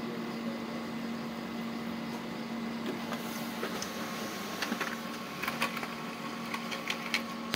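A Brother MFC L2710DW printer hums quietly through a print job, with a steady whir and a run of soft clicks and feed ticks in the later seconds.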